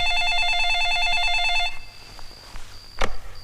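A telephone rings with a warbling electronic trill for a couple of seconds, then stops; a click and faint handling noises follow as it's picked up.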